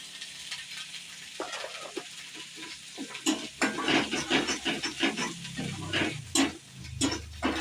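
Ground masala paste roasting in a pan, with a steady soft sizzle under repeated scraping and stirring strokes that grow busier and louder toward the end.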